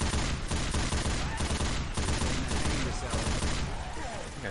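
Dense, continuous gunfire fills a Left 4 Dead 2 custom map fight against zombies and stays loud and steady throughout, with players' voices partly mixed in.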